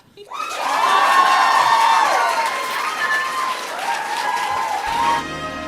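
An audience at an awards gala bursts into loud, sustained applause with cheering and whoops, a dense crowd roar lasting several seconds before cutting off abruptly.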